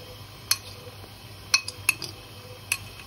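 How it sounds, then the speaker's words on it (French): Metal spoon adding grated parmesan to risotto, clinking sharply against the pan a few times in irregular taps over a low kitchen background. "je vais prendre une cuillère et je vais mettre du parmesan râpé"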